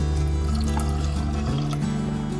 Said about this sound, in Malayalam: നമ്മളിതില് സെക്കൻഡ് പാൽ ഒഴിക്കണം.